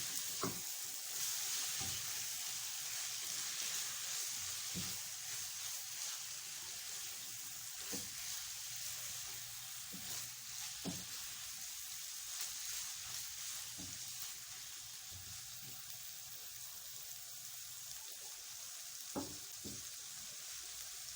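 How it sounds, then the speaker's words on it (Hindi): Boiled shredded chicken frying for Chinese biryani, a steady soft sizzle throughout with occasional sharp clinks of a utensil stirring in the pan, no talking. "बस 1-2 मिनट फ्राई कर लेना है इसको।"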